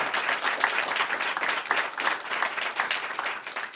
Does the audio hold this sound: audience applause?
yes